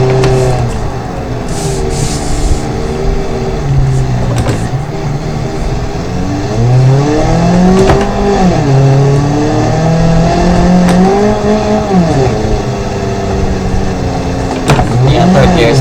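A small Ibishu engine in a manual car in BeamNG.drive revs hard at full throttle, its whining pitch climbing and falling through gear changes, loud and continuous with a voice talking over it.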